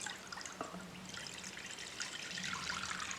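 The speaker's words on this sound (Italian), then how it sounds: "Prendete la teglia e riempitela con dell'acqua per un'altezza di circa 2-3 cm." Water trickles and pours steadily into a baking pan, a continuous close splashing stream with small bright drips, no voices over it.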